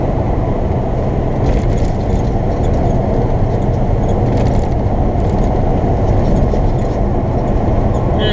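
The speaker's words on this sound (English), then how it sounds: "I've got a Kenworth coming up on my left that's probably doing about 65" Kenworth truck overtaking on the highway at about 65, a loud continuous low roar of engine and road noise heard from inside a vehicle, with faint rattles and whooshes layered over the steady rumble.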